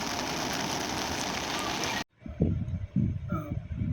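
Heavy rain pours steadily in Umaria district as a dense, even hiss for about two seconds, then cuts abruptly to a quieter scene with low rumbling noises.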